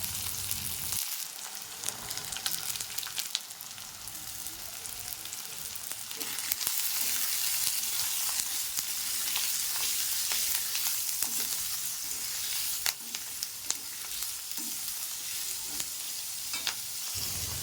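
Onion, carrot and capsicum fry in oil with black mustard seeds in a wok, producing a continuous moderate sizzle with scattered spatula scrapes and taps throughout.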